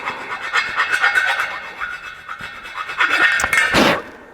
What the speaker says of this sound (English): I just take a round file right here and I just clean this up a little bit